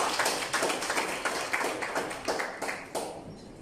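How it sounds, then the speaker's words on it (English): Applause from an academic audience at a lecture on research supervision, a few seconds of uneven clapping with distinct individual claps, tapering toward the end. "I think we should give ourselves a round of applause."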